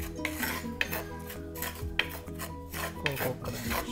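A spoon scrapes and rubs against a metal bowl while polvoron ingredients are mixed with cocoa crunch, giving repeated gritty rasping strokes with a few sharper clinks, close and fairly quiet.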